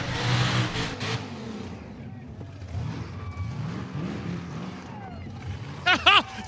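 A burnout car's engine revs hard in a Summernats burnout final, roaring and bouncing off the limiter with sharp high-pitched peaks near the end, under a commentator's voice and crowd noise.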